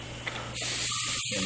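Spray of paint for an uneven leather texture starts up abruptly after a soft low hum, becoming a loud, steady, close airy hiss with a couple of brief sputters, no talk.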